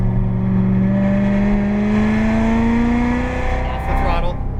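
Corvette Z06 engine revving and accelerating on the Las Vegas Motor Speedway track, a loud steady in-car drone climbing in pitch before easing off, while an instructor talks over it.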